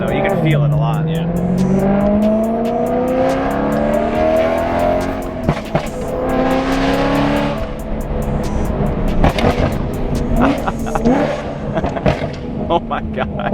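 A BMW E90 M3 revs and accelerates nearby, its exhaust crackling with sharp pops and bangs between engine pulls, while people talk over it.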